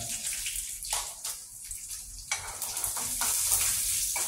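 Chana dal, dried red chillies and cumin fry in hot oil, a continuous crackling sizzle with stirring scrapes that rises and falls, fairly close and moderate in level.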